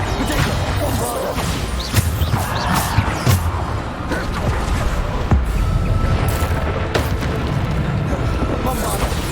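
Bombarda spell blasts in Hogwarts Legacy, during a trial against Death's Shadows, land as repeated booming impacts and crashes over a continuous din of spell combat, loud and close.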